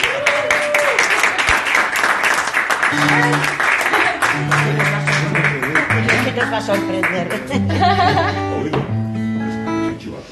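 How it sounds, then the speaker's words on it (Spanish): An audience claps for a guest, and the steady applause plays under sustained musical tones and occasional voices. "Aplauso"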